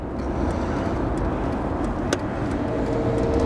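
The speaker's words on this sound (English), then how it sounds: "a 1962 Series 1 Jaguar E-Type that's been converted with our E43" A 1962 Series 1 Jaguar E-Type converted to electric drive moves along a road, giving a steady broadband rolling and wind noise with little engine tone and one brief click midway.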